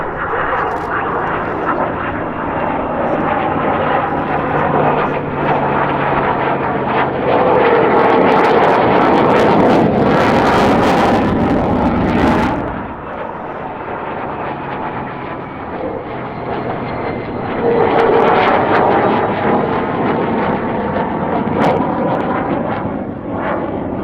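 An A-10C Thunderbolt II military jet roars loudly overhead at an airshow, a broad rushing engine noise that swells, dips briefly, then builds again as it passes.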